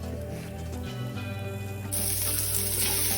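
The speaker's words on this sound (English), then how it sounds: "I just love the sound of sizzling meat." Beef pieces browning in hot oil in a stew pot, giving a steady sizzle that swells louder and brighter about two seconds in and keeps going close up with no talking.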